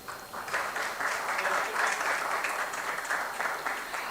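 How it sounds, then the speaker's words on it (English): A crowd at a CFA Society charter award ceremony claps steadily for a few seconds, a dense, even patter of applause heard from within the hall. "A big round of applause for him."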